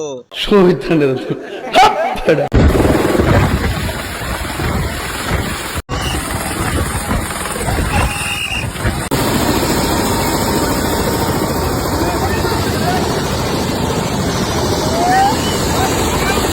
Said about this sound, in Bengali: হেলিকপ্টার নিয়ে শ্বশুর বাড়ি আইসে বুঝছেন, ল্যান্ড করলো কেবল